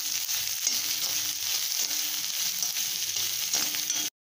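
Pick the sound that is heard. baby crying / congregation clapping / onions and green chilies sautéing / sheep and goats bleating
onions and green chilies sautéing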